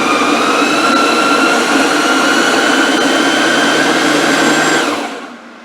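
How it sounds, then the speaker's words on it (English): A loud kitchen blender whirs steadily at high speed, breaking down tomatoes for sauce from scratch, a constant motor roar that lasts a few seconds before winding down and cutting off. "I'm going to hit the mix button, and we're going to let that break down the tomatoes."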